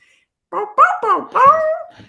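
A person imitates a dog barking, giving a quick run of four or five close, loud yipping barks that start after a brief silence and end with a faint trailing whimper.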